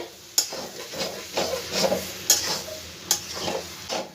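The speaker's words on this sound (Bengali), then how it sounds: "খুব ভালো করে মশলার সাথে আমার সয়াবিনটা কষানো হয়ে গেছে।" Soybean chunks being stirred and fried with spices in a pan, with a soft steady sizzle broken by repeated scraping strokes of a spoon against the pan, close and fairly quiet, with no talking.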